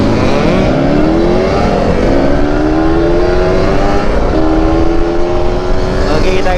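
A Kawasaki Ninja motorcycle accelerates hard along a long road on a holiday tour, its engine loud and close, pitch climbing steadily through the gear, with wind rush throughout.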